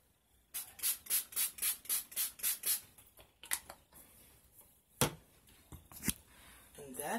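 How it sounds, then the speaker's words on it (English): Rapid bursts of a makeup setting spray pump hiss in quick succession, about nine short sprays in a row, followed by a few more scattered spritzes close to the mic. "I'll spray it back down."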